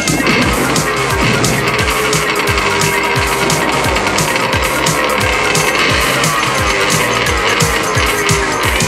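A cartoon motorcycle engine revs and races in rapid, repeated bursts, rising and falling pitch sweeps with a harsh, buzzing roar close by.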